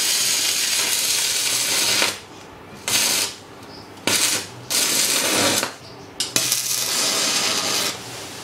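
A portable mini inverter welding machine runs a stick rod, giving loud, dense sizzling crackle in several bursts separated by short pauses as the arc is struck and broken.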